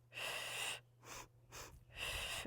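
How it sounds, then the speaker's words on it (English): Breathing in a mat Pilates workout, two short inhales and one long exhale: a long breath, then two short quick puffs, then another long breath. It is soft, close and audible. "2 short inhales, 1 long exhale"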